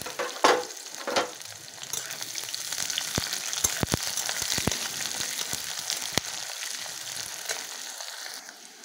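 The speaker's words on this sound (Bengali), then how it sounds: "এটা অল্প নেড়ে চেড়ে এবার দিয়ে দেবো পেঁয়াজ কুচি।" Chopped onion and green chilli fry in a hot pan for a chicken curry, giving a continuous soft sizzle with scattered crackles and light clicks of stirring.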